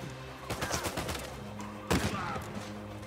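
Gunfire from one-hit-kill weapons in the video game Uncharted 4, a quick run of rapid shots followed by a sharper, louder blast, against a steady game soundtrack.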